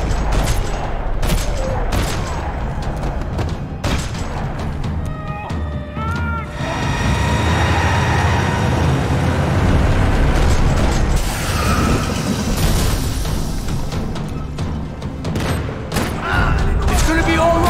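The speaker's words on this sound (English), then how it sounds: "Another parking lot rattling with gunfire." Sustained gunfire in a parking lot during a Max Payne 3 firefight: dense, rattling bursts of shots with mechanical clatter and booms running nearly continuously, loud and close throughout, with brief tonal game sounds mixed in.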